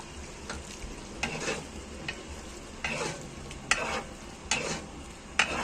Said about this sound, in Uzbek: Endi mana bu qolgan sariyog'imizni mana solamiz. Va yaxshilab aralashtiramiz.